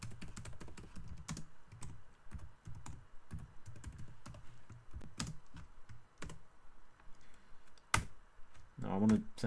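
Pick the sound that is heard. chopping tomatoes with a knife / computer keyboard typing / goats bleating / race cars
computer keyboard typing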